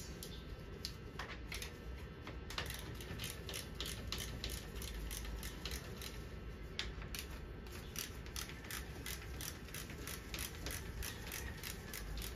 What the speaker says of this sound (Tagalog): Tapos gamit tayo ng socket wrench maliit,